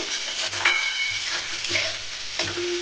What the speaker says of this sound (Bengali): একটু লাল লাল মতো করে ভেজে নেব